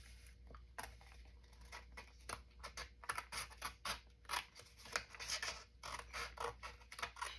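Scissors snip along the lines of a paper print in a quiet room, a soft, irregular run of close, crisp cuts.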